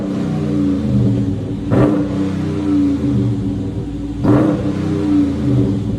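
A Dodge Charger Scat Pack 6.4L HEMI V8 with DynoMax Race Bullet mufflers and 5-inch tips idles with a deep rumbling exhaust, then revs hard twice in short bursts, loud and close, about 104 decibels.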